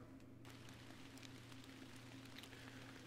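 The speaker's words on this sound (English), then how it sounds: "that rain's a little bit loud, so just bear with me" Rain in the fishing video game Fishing Planet at Emerald Lake: a steady, soft hiss of falling rain with a low underlying rumble, continuous and even throughout, with no voices.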